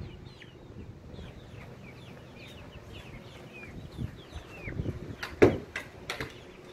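Chickens cluck and chirp in the small play yard of their coop, giving soft scattered calls over a low background rumble, with a few louder knocks and clatters near the end.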